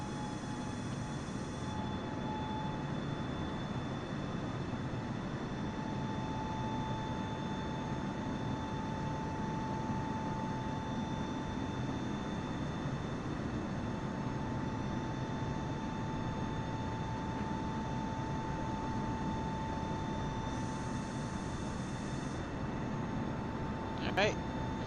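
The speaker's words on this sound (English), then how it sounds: "Alright, V1, rotate. Nice. Sounds like you're lifting off smoothly." A simulated airliner in Microsoft Flight Simulator 2024 gives a faint, unchanging engine roar with a thin steady tone throughout its takeoff, without any clear swell.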